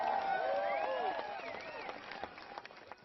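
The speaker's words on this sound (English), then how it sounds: "Yeah, we're clapping" Comedy club audience claps and cheers during a stand-up set; scattered shouts and whoops over a steady patter of applause that fades slightly, with a few sharper claps near the end.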